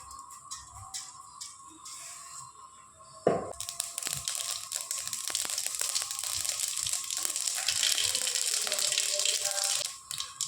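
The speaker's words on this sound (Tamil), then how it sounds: "கடுகு நல்லா பொரிச்சிருச்சுங்க" Mustard seeds spluttering in hot oil in a cooking pan: a sudden burst of dense crackling and popping that starts partway through and continues loudly to the end, following quieter kitchen sounds.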